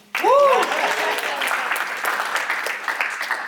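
Applause breaks out at a real estate networking event, a burst of clapping from a room of people with voices mingled in. A brief rising and falling tone sounds at the start, then the clapping carries on steadily.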